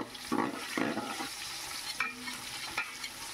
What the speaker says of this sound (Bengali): দিয়ে ভালো করে একটু নাড়িয়ে চাড়িয়ে নেব